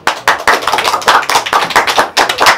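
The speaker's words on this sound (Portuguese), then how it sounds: "Palmas." Close, loud hand clapping from a small group, fast and uneven bursts repeating steadily, with no talk over them.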